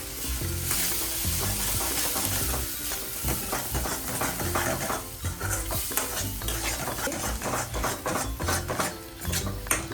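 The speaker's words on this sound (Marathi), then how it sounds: "तर मी सगळाच मसाला टाकते आणि याला छान शिजून घेणार आहे." Fried onion with homemade masala cooks for a spicy mutton curry, sizzling loudly in the pan while a spoon scrapes and clatters against the metal in quick, busy, repeated stirring strokes.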